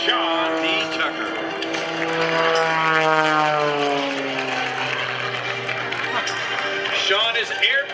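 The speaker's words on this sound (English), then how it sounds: "Returning over the skies of Andrews for his 20th time flying the all-new Oracle Challenger 3" A Challenger 3 propeller aerobatic plane flies over an air show, its engine drone rising and shifting in pitch as it passes at moderate distance, with a crowd announcer's amplified voice talking over it throughout.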